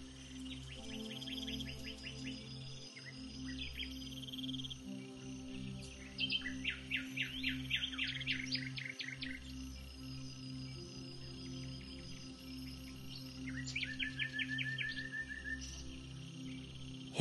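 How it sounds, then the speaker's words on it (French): Distant night birds sing in repeated trilling phrases over a steady chorus of pulsing insects, all soft and far off in a calm outdoor nighttime setting. "Les chants distants des oiseaux nocturnes."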